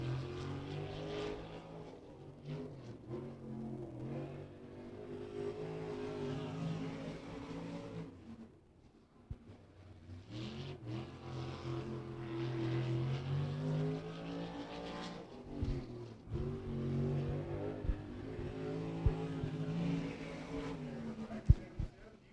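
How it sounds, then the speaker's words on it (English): A 305 sprint car on a qualifying lap at Beckley Motor Speedway drones from a distance, its engine rising and falling in pitch as it revs, with a brief lull near the middle. "Making his second ever start in a 305 sprint car."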